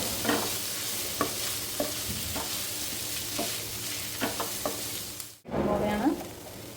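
Chicken and capsicum stirred in a frying pan, a steady close sizzle broken by repeated scraping clicks of the spoon, with a brief dropout near the end before the frying resumes.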